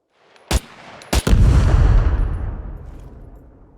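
Small armor-piercing mines detonating against a medium wood palisade wall in the survival game SCUM, a sharp blast followed by a double blast that swells into a loud, rumbling boom fading over several seconds.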